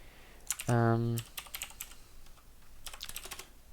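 Keys clack on a computer keyboard in quick irregular bursts, with a brief steady electronic tone partway through, over quiet room background.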